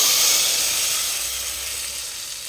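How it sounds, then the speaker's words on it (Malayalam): Hot tempering of oil and curry leaves poured into a pot of sambar gives a loud, sharp sizzle that flares at once and then slowly fades as it settles. "അതിൻ്റെ ഒപ്പം കുറച്ച് കറിവേപ്പിൻ്റെ ഇല ഇട്ട് കൊടുക്കാണ്. നമുക്കതിലേക്ക് ഒന്ന് ഒഴിച്ച് കൊടുക്കാം സാമ്പാറിലേക്ക്."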